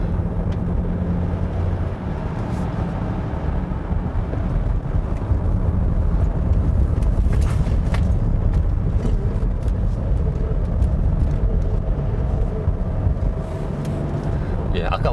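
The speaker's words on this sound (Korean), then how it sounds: "이 엔진은 공회전 때보다 그러니까 회전수가 어느 정도 돌아가면은 그때의 소리가 더 좋은 것 같아요." A 2019 Land Rover Discovery SD6 HSE diesel engine drones steadily while the car drives uphill, a low, continuous hum with road noise running under a person talking throughout.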